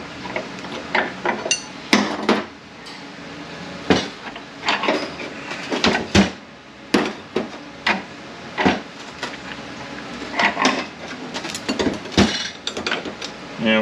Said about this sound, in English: Pull this snap ring out.